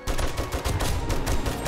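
Rapid gunshots from a 7 Days To Die horde-night fight, a dense run of repeated cracks over a low rumble with no talking.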